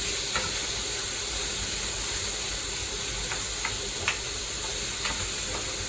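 Steady sizzling hiss of vegetables stir-frying in a hot pan for a healthy Caribbean stir fry, a continuous close fry with a few soft scrapes and clinks of the utensil and no talking.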